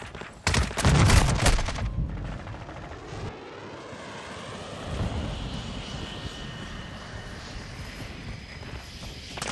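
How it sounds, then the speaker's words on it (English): Friendly cruise missile launched in a video game shooter, a loud booming rumble at the start that gives way to a long roaring whoosh that fades off, with scattered gunfire-like cracks. "Friendly cruise missile deployed."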